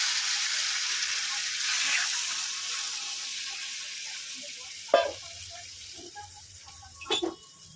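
Water hits a pan of spiced fish curry after the masala has been fried down in oil, giving a broad hissing sizzle that gradually fades, broken by a couple of sharp clanks from the utensil.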